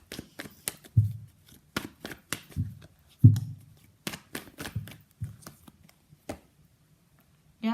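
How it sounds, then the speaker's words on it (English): Tarot cards are shuffled by hand in a series of crisp, close riffles and taps, separated by short pauses, with no talking over them. "Let's pull some more cards."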